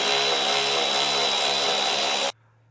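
A power tool drives out T40 Torx screws on a 2022 Jeep Grand Cherokee WL, whirring loud and close in one steady burst that cuts off abruptly into near silence.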